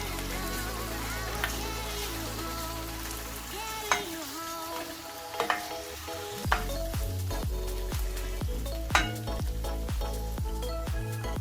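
A tablespoon of garlic paste sizzles and spits in a hot pan, a continuous frying hiss with a series of sharp pops and crackles that grow more frequent toward the end. The sound is close, and no one talks.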